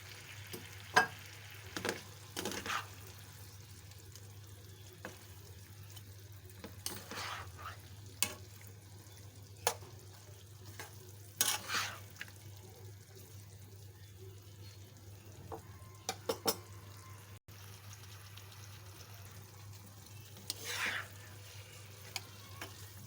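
Potatoes and ridge gourd are stir-fried in a pan for a chicken dish. A quiet, low hum runs underneath while a spatula scrapes and clatters now and then, in irregular bursts spread across the stretch, with no talking.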